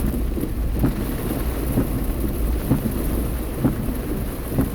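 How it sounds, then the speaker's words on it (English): Heavy rain pours down with thunder, heard from a car with its windows open in a low-visibility storm, a loud constant hiss of drops broken by several soft, low rumbles, with no voices. "Isn't that beautiful? The way that the rain comes down with such force."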